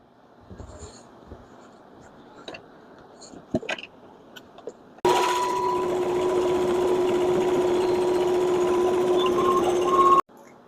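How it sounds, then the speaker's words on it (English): Quiet handling and small taps give way to a sewing machine top stitching around a small fabric organizer, with one loud, even motor run lasting about five seconds before stopping abruptly. "And now we do a top stitch all the way around."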